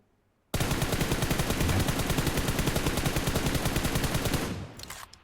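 Automatic gunfire in PUBG Mobile: one continuous burst of rapid, evenly spaced shots, loud and close, running about four seconds before it stops abruptly, with no talking.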